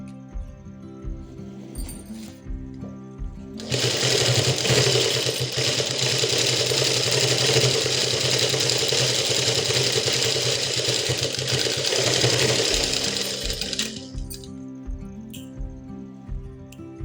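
A sewing machine stitches a blouse in one steady, fast whir lasting about ten seconds. Quieter rhythmic mechanical ticking comes before and after the run.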